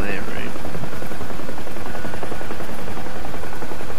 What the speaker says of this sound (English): Wow! I can fly a Huey!